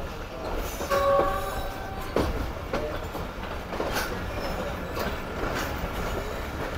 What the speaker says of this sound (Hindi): चलो जी, फाइनली प्लेटफॉर्म लाइन से मेन लाइन पर आ गई है ट्रेन हमारी।